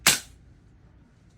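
A single sharp shot from a VFC HK416A5 gas blowback airsoft rifle fired on semi-auto, loud and close, with a quick decay into quiet room noise.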